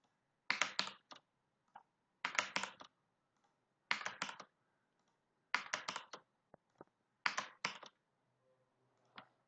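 Close keyboard typing while writing JavaScript code, arriving in about five quick clusters of clicky keystrokes separated by short pauses, with a few isolated taps between bursts and no talk.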